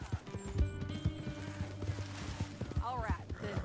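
Horse hooves clip-clop steadily while riding in Red Dead Redemption 2, a rhythmic run of close thuds with an occasional whinny, under ongoing game ambience and a voice partway through.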